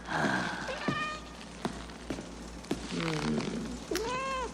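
A cat meows several times, short rising and falling cries spread across the clip, with a few sharp clicks in between.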